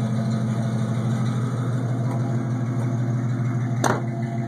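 A carbureted engine with straight dual two-chamber Flowmaster exhaust and no catalytic converter idles with a steady, deep, loud drone that pulses evenly throughout, heard close by.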